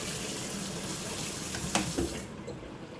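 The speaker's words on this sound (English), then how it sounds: "So I'm washing my spoon." Running tap water splashes steadily as a spoon is rinsed under the faucet while cooking cabbage and pumpkin, a continuous broadband hiss with a couple of small clinks near the end as the flow stops.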